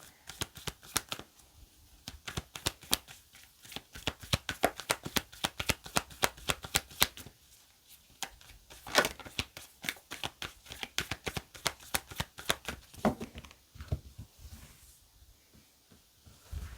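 Tarot cards are shuffled by hand in a dense run of crisp riffling clicks and flutters, pausing briefly around the middle before starting again, close and moderately loud with no talking.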